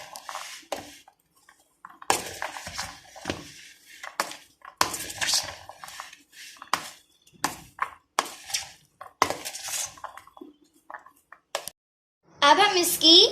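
Spoon clinking and scraping in a bowl while chaat masala and cumin are stirred into papri chana chaat, intermittent bursts of mixing near the mic, with a voice speaking between them.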